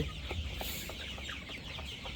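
Sonali super hybrid chickens, about 32 days old, on a poultry farm: a nearby flock clucking in short, repeated calls over a steady background din, with no talk.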